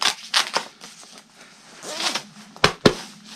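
Close, quick zipper strokes come from closing a Knox Urbane Pro Mk3 motorcycle jacket with its optional chest protector fitted: several short rasping pulls with brief pauses, ending in two sharp final tugs.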